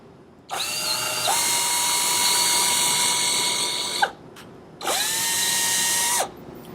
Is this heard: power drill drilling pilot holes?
yes